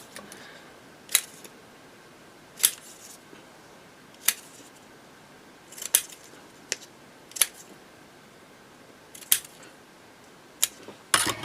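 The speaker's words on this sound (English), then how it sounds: "I'm just going to cut around this little label" Scissors cut around a small paper label in a quiet room, about nine short crisp snips spaced a second or two apart, near and fairly faint.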